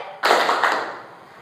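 A group of participants in a classroom clap game claps together in a short, loud burst, with a second quick clap following before the sound trails off.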